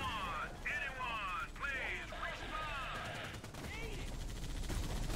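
Gunfire from the video game H3MO crackles in a rapid strafing stream, moderately loud and mixed with whooshing, swept effects while a voice talks over the action.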